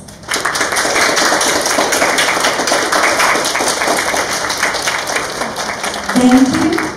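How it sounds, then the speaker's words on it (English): Sustained applause from a group of standing scholars facing their parents at a welcome ceremony, dense, steady clapping filling the room, with a brief voice rising near the end. "please give them a big round of applause"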